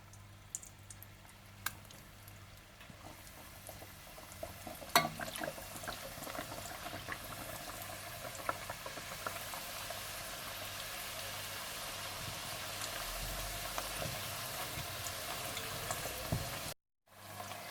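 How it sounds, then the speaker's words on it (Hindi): Papri dough pieces, pricked with a fork, frying in oil over medium heat, giving a steady continuous sizzle and bubbling with a brief louder disturbance partway through and a short cut near the end. "इसके बाद आप इन्हें फ्राई कर लें।"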